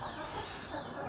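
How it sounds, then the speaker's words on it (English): Several chickens cluck close by in a farmyard near a duck coop, a steady burst of clucking and fowl chatter with no talking over it. "Them's the nosiest chickens I've ever seen in my life."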